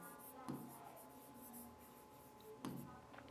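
A marker or chalk writes on a classroom board in two short, close strokes, with quiet room tone in between.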